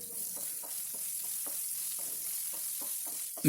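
Chopped ivy gourd frying in a pan and being stirred, a continuous quiet hiss with regular light scraping taps from the spoon, close and alone, with a sharp knock at the very end.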